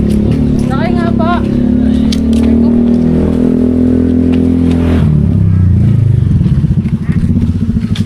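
A motorized tricycle engine revs and rumbles steadily close by on a street in Dingalan, Aurora, with a rising, rougher throb near the end; people talk over it at the start.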